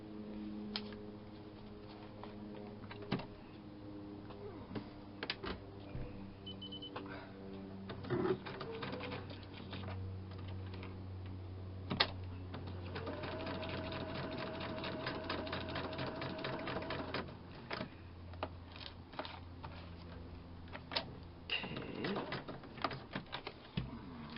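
A sewing machine stitching tissue fringe runs in short, quiet bursts of rapid mechanical rattling, broken by clicks and pauses, with a steadier whirring stretch near the middle.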